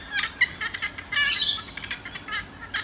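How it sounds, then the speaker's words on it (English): Birds chirp and squawk outdoors in nature, a quick run of bright, scattered calls of moderate loudness with no talking over them. "And I love doing yoga in nature, so you can listen to the birds."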